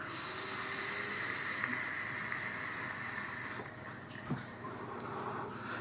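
Steady airy hiss of vapor being drawn through a SilverPlay Nano RTA sub-ohm rebuildable atomizer, one continuous close pull that eases slightly near its end, with a faint click partway.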